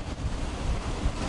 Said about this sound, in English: We're getting now something like 30 to 32 knots of wind.